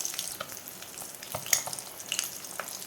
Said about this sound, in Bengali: দেখো ওই তেলেতে আমি ভেজে নেবো এবার দুটো ডিম